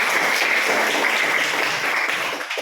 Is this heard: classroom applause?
yes